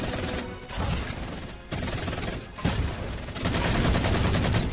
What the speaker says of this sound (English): Pick up AR and we'll just take turns shooting him in the back